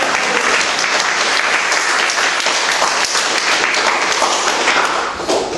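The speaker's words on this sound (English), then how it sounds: "A little round of applause." A crowd applauds steadily and loudly, dense clapping filling the whole stretch before tapering slightly at the end.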